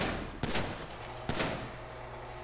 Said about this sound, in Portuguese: Dá mais tiro aqui nesse vidro aqui pra ver se ele vai